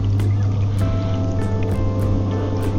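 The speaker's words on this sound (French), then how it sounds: "Là, j'avais fermé, je vais ouvrir. Mon eau va s'écouler." Water drains from a LIDL mobile camper sink once its valve is opened, a steady gurgling trickle running without a break over a low constant hum, close and fairly loud.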